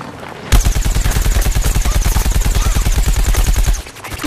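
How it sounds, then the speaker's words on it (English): Rapid automatic gunfire in the Plants vs Zombies Garden Warfare video game, a loud steady stream of evenly spaced shots lasting several seconds before cutting off. "Oh, I'm getting shot."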